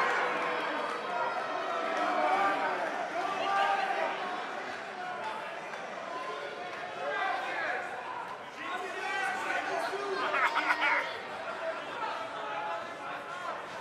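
A large crowd murmurs and cheers steadily in a big indoor arena in the video game WWE 2K19, a continuous roar of many voices.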